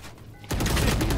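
Rapid AK rifle gunfire from the game Valorant bursts out after a brief quiet moment, a dense, close, continuous rattle of shots lasting under a second.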